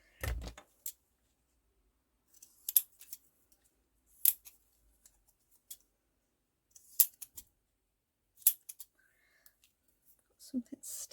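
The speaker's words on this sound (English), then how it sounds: "Let's just cut around these." Scissors cutting around paper labels, a series of quiet, close snips in short bursts separated by silent pauses, with a faint bit of movement near the end.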